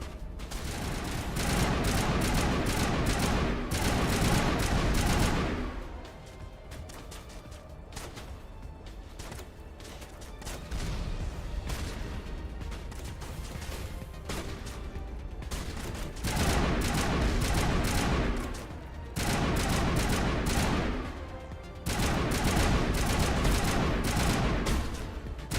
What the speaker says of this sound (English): You're shooting the rock, guys. Literally, just straight into the rock.